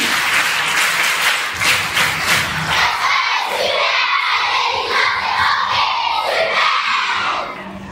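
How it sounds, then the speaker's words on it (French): A church congregation applauds during a Mass for the Immaculate Conception, with children among them. The clapping is loud and sustained, with a few cheers and children's shouts mixed in, and it fades slightly at the end. "On applaudit."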